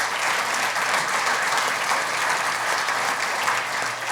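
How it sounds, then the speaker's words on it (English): A steady roar of applause from a crowd at an economic development group's annual meeting greets standing board members, with many hands clapping evenly and no voices on top. "give these guys a round of applause"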